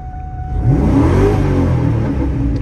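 A GT convertible sports car engine revs up sharply, rising in pitch then holding a loud, close growl for about two seconds.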